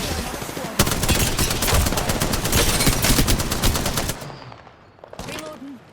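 Rapid automatic gunfire in the video game Apex Legends, a loud, sustained stream of shots for several seconds that then drops off into quieter scattered sounds.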